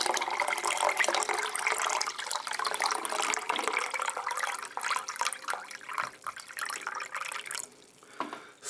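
Liquid for a drinking challenge, a mix of beetroot, pickle and sausage water, poured into a cup to fill it, a close continuous splashing pour with drips and spills that fades toward the end.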